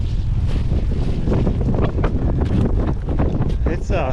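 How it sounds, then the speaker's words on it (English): Strong wind buffets and roars across the microphone in gusty bursts along a hiking trail near a creek bridge, loud and continuous, with a voice faintly mixed in. "It's windy down here."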